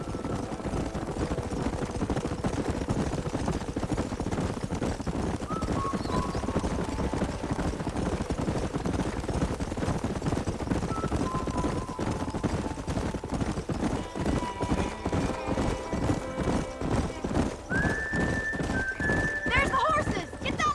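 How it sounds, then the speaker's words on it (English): A herd of horses gallops in steady rapid hoofbeats with occasional whinnies in the Red Dead Redemption video game, amid dense continuous rumbling and background game sound for about twenty seconds. "There's the horses!"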